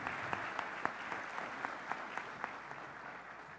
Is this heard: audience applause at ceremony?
yes